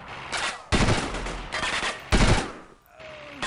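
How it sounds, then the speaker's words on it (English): Video game gunfire from Delta Force 2, several loud bursts of rifle and machine-gun fire in quick succession with brief gaps between volleys. "Oh, I managed to shoot him."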